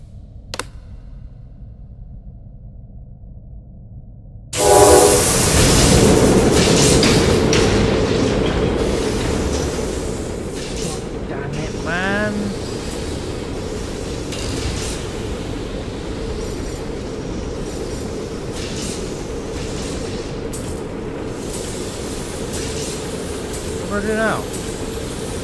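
After a quiet stretch, a powered train in the video game Poppy Playtime lurches into motion with a loud burst, then rumbles and rattles steadily, with occasional squeals and voices underneath.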